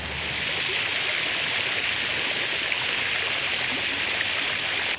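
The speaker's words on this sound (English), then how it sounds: "I really like the way the water fans out in this fountain" A street fountain fans out its water in a steady, hissing splash that holds evenly throughout, close and fairly loud, with no voices.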